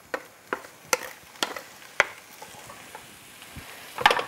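Leeks and onions frying in fat in a pan on a gas stove, a soft steady sizzle punctuated by sharp clicks and taps as the vegetables are stirred.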